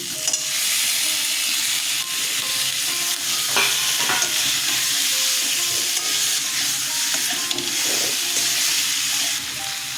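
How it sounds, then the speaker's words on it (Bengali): Potato and eggplant pieces go into a sizzling pan of gulsha tengra fish curry. A continuous loud frying hiss runs with scraping stirs and a few clattering knocks from the pan, and no voices. "আমি এবার আলু বেগুন দিয়ে দিচ্ছি"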